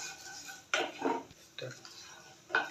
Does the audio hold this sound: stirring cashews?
yes